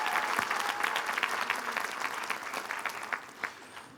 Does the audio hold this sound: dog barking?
no